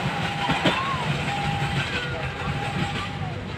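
A train rolls past a railway crossing on an afternoon outing, a steady broadband rumble with faint tonal squeals throughout, carrying on evenly without a clear start or end.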